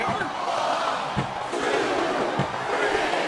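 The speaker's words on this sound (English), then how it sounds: "This capacity crowd is making their opinions known tonight." A large arena crowd in a WWE SmackDown vs Raw 2007 video game match roars steadily throughout, a dense, loud wall of cheering and shouting with no pauses.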